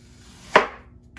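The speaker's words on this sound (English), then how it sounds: "you just start chopping off just a little bit like this" A single sharp chop of a knife through firm pineapple onto a cutting board, one crisp thud with a short decay, otherwise quiet.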